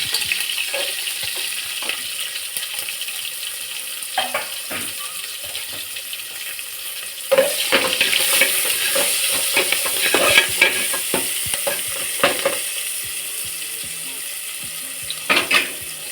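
Onions and green chillies fry in a pan with a steady sizzle, broken by intermittent scraping and clinking as a spoon stirs them against the metal.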